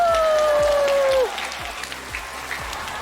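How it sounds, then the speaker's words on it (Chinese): A studio audience at the Chinese talk show 今晚不加班 applauds its guests with a steady, full burst of clapping that follows a short musical tone, sustained to the end. "掌声送给所有嘉宾！"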